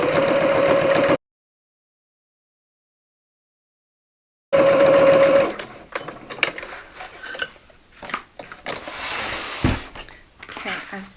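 A sewing machine stitches around the edge of a faux leather wallet with a close, steady mechanical hum, cut short by a stretch of silence, then resuming briefly before scattered handling clatter.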